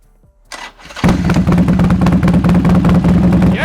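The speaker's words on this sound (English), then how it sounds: "We're gonna go ahead and fire up this Sportster so you can hear our new 2-in-1 exhaust pipe." A Harley-Davidson Sportster fitted with a Lowbrow Customs 2-into-1 exhaust fires up after a starter whir, then settles into a loud, close, lumpy rhythmic idle.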